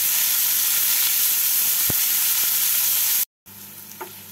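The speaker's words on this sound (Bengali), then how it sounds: "পেঁয়াজগুলোকে দিয়ে পেঁয়াজগুলোকে হালকা ব্রাউন করে ভেজে নেব।" Chopped onions fry in a pan with a loud, dense, continuous sizzle and a couple of faint knocks, cut by a brief dropout before the sizzle returns softer.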